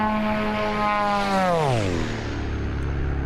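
A Beechcraft Duke B60 twin-prop plane in Microsoft Flight Simulator roars past in a flyby, its droning engine pitch sliding sharply downward as it passes, loud and alone.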